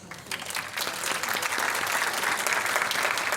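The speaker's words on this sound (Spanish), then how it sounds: "Fuerte aplauso." Loud audience applause at a disability education panel in Córdoba, Argentina, a dense steady clatter of many hands that swells slightly and holds for a few seconds.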